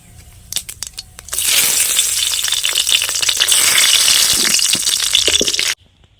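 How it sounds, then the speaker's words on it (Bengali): Cumin seeds, two dried red chillies and a bay leaf hit hot oil in a kadai, bursting into a loud, dense sizzle with sharp crackles and pops after a few quiet taps, then cutting off abruptly near the end. "এখন জিরে ফোড়ন দিয়ে দিলাম আর দুটো শুকনো লঙ্কা একটা তেজপাতা ফোড়ন দিয়ে দেব"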